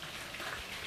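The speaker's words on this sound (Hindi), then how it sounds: "यहाँ बारिश हो रही है, हल्की हल्की बारिश अभी रुक रही है।" Light rain pattering steadily outdoors, a soft, even wash of drops that is fairly faint and constant, with no talking over it.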